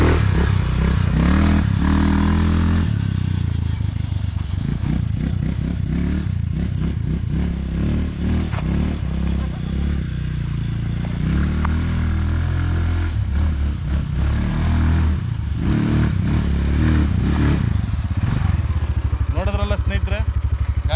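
A powersport quad bike being ridden, its engine revving and rumbling loudly and close throughout with clattering and scraping, while voices talk over it.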